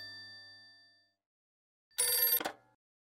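A telephone bell rings in a household scene from a Hindi family TV drama. A faint fading tone comes first, then a silent gap, then one short, loud ring burst.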